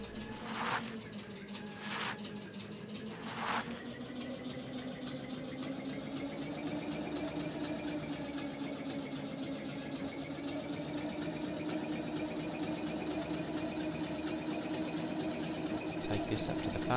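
A truck engine from the game ECO runs at a steady idle, a continuous mid-pitched hum that slowly builds in level, with a few short knocks near the start.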